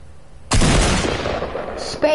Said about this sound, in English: Shoot your gun when you type that in.